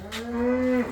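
A cow on a farm moos once, a single close, loud, drawn-out low call lasting under a second.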